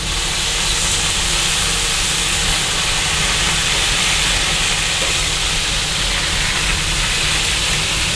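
Smash burger patties crisping on a hot griddle give off a steady, dense sizzle and hiss that holds unbroken and fairly loud, with no voices over it.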